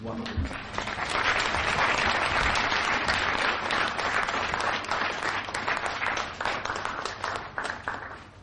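An audience breaks into applause after a speech at an awards night: dense, loud clapping builds quickly, holds steady for several seconds with scattered individual claps, then begins to thin toward the end.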